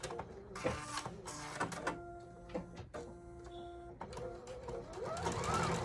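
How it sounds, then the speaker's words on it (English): Sewing machine back stitching and then stitching forward along a seam of a jacket or blazer, with whirring bursts of stitching broken by short pauses. "We're gonna back stitch."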